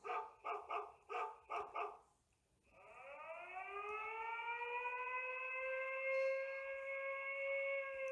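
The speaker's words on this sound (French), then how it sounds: "Donc si je vous mets sonnerie du chien" A Xiaomi home alarm hub plays its dog-barking ringtone: six quick synthetic barks in a steady rhythm, a short pause, then a loud, sustained rising siren tone that holds steady to the end.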